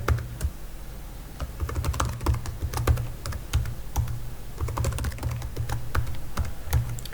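Rapid, uneven keystrokes on a computer keyboard as a password is entered at an SAP system login, close and clear over a steady low hum, with no talking.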